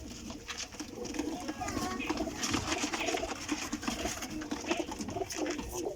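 Young pigeons, a mix of chicks of the Sialkoti and golden types, coo steadily close by while someone talks over them, with rustling and flutter in the loft.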